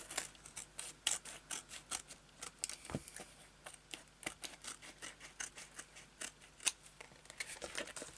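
Scissors snip steadily through the excess edges of a homemade A5 stamp storage piece, a quick, quiet, close run of crisp cuts with short pauses between.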